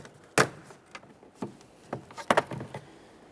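Several sharp plastic snaps and cracks at irregular intervals as a door trim panel on a 2004-2008 Ford F-150 is pried loose from its locking tabs, with quiet handling noise between them.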